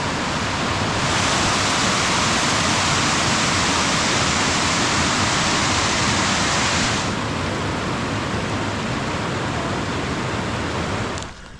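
Grotto Falls, a waterfall on a forest trail, pours as a steady, loud rush of broadband noise. The roar continues unbroken and fills the whole clip, with no voices heard.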